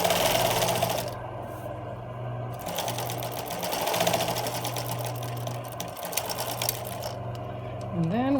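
A sewing machine stitches a cloth medical mask cover in rapid, fast mechanical bursts, stopping and restarting a few times, close and clear, with soft handling noises between runs.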